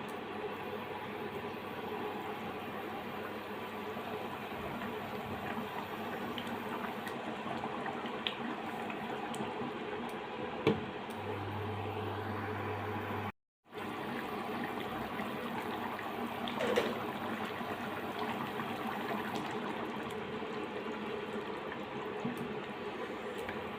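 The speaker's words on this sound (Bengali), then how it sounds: "আমি 10 থেকে 15 মিনিটের মতো চুলার আঁচটা মিডিয়াম লো করে নাড়াচাড়া করে সেদ্ধ করে নেব" Dhaba-style chicken masala curry with yogurt simmers in a pot on medium-low heat, giving a faint, steady bubbling hiss that runs unbroken for over twenty seconds, with no voices.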